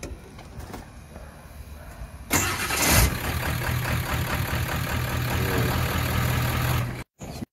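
A Ford 7.3 PowerStroke diesel truck engine cranks briefly, catches and fires with a loud surge, then settles into a steady, rumbling idle until it cuts off abruptly.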